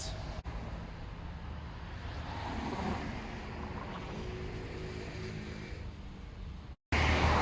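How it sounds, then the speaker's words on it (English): Steady roar of heavy traffic on a busy road in Istanbul, with vehicles rumbling and revving continuously nearby, broken by a brief cut near the end. "you'll need to excuse the noise of the very busy road behind me"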